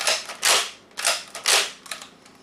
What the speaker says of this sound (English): you just pump this little handle here to advance to the next chamber